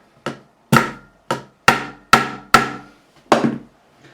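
A high fret on a Harley Benton RB-600 bass, a Rickenbacker replica, is tapped down with a hammer. Seven sharp, close knocks ring out alone at an uneven pace, with short silences between them.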